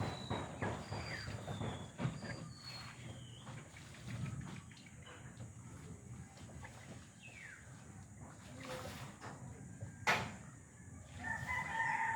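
Outdoors in very hot weather, a rooster crows somewhat distantly while heat-stressed chickens cluck intermittently, with soft rustling and a brief sharp knock.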